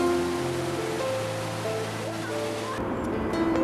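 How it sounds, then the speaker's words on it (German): A waterfall at the end of a hiking tour in Austria gives a steady broadband rushing roar, overlaid by sustained musical tones and some voice. "Im Ziel der beeindruckenden Tour wartet ein atemberaubender Wasserfall."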